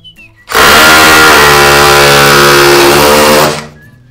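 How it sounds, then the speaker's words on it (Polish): A power drill with a carbide bit whirs loudly and steadily for about three seconds as it bores into a soft aerated concrete wall, then spins down and stops. "wsadziłem do wiertarki wiertło widiowe. I wykonamy kontrolny otwór"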